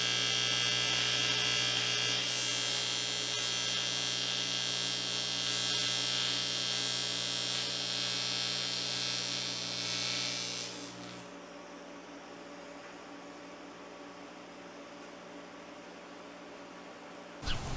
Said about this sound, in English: just weld the end walls to the hoops. So that's what I did, and that's what I'm doing here.